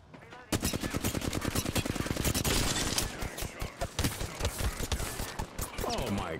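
Rapid bursts of video game gunfire in a PC shooter match, dense automatic fire running for several seconds and then breaking into choppier shots, loud and close.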